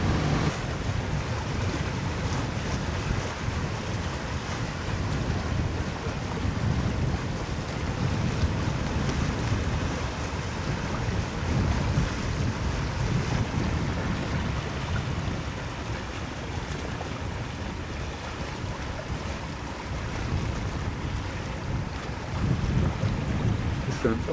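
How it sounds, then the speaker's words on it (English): A sailboat motor sailing on open sea off Cumberland Island, with a steady rush of wind and waves and a low engine rumble, continuous and close, with a little wind buffeting on the microphone. "Motor sailing, big time."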